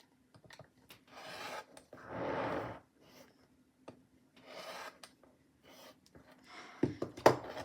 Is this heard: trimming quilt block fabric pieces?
yes